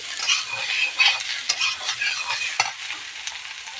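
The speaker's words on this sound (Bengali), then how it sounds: "এবার দেখো ইঁচড়গুলো এরকম ভেজে নিচ্ছি" Pieces of boiled young jackfruit frying in a pan, a bright continuous sizzle broken by several stirring scrapes and knocks of a spatula against the pan.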